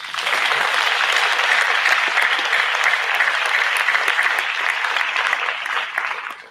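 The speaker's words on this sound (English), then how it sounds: "So please give yourselves a round of applause" A business scaling program audience gives a dense, sustained round of applause that stays loud and even for several seconds before tapering at the end.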